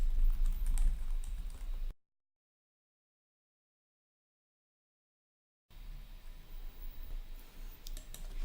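Login details typed on a computer keyboard, with quick close clicking keystrokes in two bursts separated by a few seconds of complete silence.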